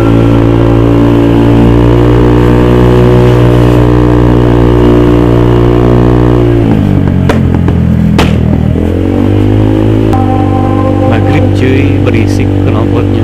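A Honda Vario 150 scooter with a noisy exhaust and a Juken ECU backfire tune runs loud and steady close by, dips sharply for a moment, then comes back with sharp crackles near the end, while a voice talks over it.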